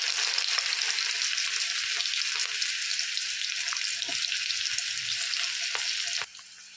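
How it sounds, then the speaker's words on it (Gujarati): Onion frying in hot oil after asafoetida for urad dal, a dense continuous close sizzle with a few faint stirring knocks, cutting down sharply near the end. "હિંગ નાખશું એટલે અમે ડુંગળી નાખી દઈશું"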